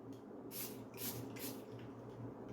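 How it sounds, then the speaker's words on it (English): A spray bottle mists water onto a painting of a rainy cityscape, giving three quick soft hissing bursts in an uneven rhythm, close and fairly quiet. "we'll take a spray bottle and we will spray"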